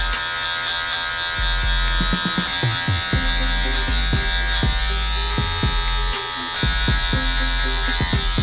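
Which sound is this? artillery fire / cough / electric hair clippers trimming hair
electric hair clippers trimming hair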